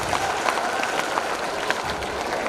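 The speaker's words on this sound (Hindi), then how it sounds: "मैं पूरी हाउस से निवेदन करता हूं कि एक बार उनके लिए जोरदार तालियां बजाएं।" An audience claps for Dr. Sudha Varghese at a school's 32nd annual function, a dense, steady wash of applause from a large hall crowd that holds at a constant level throughout.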